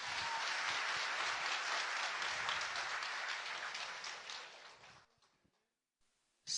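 An audience at a business seminar gives a sustained burst of applause for the sponsors, dense clapping filling the room for about four seconds before fading out into quiet, with one brief sharp sound at the very end.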